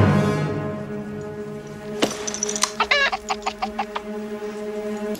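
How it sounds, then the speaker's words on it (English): Backyard chickens cluck in a quick series of sharp, repeated calls, close by, following a low steady hum at the start. "Chicken!"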